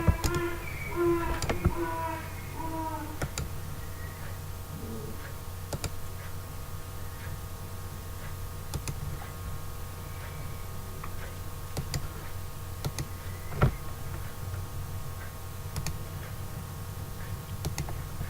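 Computer keyboard keys and mouse buttons click in sparse, irregular taps, some sharper than others, over a steady electrical hum during Photoshop editing.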